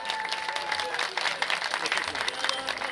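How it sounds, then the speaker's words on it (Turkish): Crowd applause at an Osmangazi municipality village festival in Turkey, steady clapping from many hands filling the space, with a voice speaking over it. "Kocaman bir alkış alalım"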